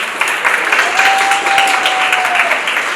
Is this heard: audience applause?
yes